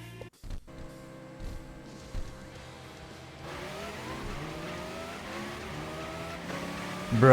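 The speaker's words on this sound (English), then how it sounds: "the engine sound from the record." Car engine revving in a racing video game, a steady mid-loud engine drone with rising pitch sweeps and a louder surge at the end.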